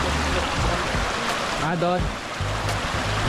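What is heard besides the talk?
flowing stream water at Bongabon spring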